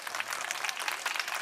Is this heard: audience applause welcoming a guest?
yes